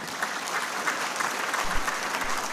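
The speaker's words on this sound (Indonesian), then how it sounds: "boleh beri tepuk tangan" Audience applause at a national party working meeting, an even, steady roll of many hands clapping, moderately loud, with a couple of low thumps near the end.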